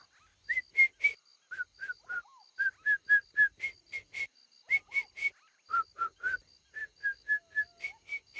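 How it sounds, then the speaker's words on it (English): A cartoon character whistles a long series of short, crisp notes in quick groups in a children's show, the pitch stepping up and down in a playful rhythm. "Can you whistle for me again?"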